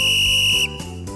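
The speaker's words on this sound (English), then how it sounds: "The Game Master blows a whistle." A single long, shrill whistle blast from a game master signals time, holding steady at close range for over half a second before cutting off into quieter tones.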